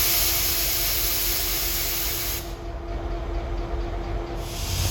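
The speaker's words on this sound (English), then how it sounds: "here at Hoboken is an unusual New Jersey Transit diesel. 4300, that's a GP40-2." A New Jersey Transit GP40-2 diesel locomotive, number 4300 and used in work train service, idles at Hoboken with a constant low rumble under a loud steady hiss that briefly eases midway.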